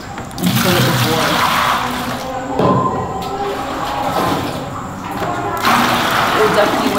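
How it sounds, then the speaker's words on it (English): Water gushes into a bucket for a cold bucket shower outdoors in Cape Verde, a steady rushing pour with brief breaks, close and fairly loud under a person's talk. "You gotta take a bucket and fill it with water."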